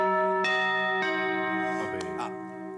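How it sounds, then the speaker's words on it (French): Layered bell-like carillon chime tones ring out in a television studio and sustain, with new strikes at intervals, while faint voices murmur in the background. "Ça, c'est le carillon"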